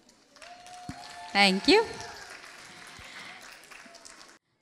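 Audience applause at a New Jersey Telugu association inauguration after a dance performance, moderate clapping throughout under an announcer's amplified voice, with a short spoken thanks midway.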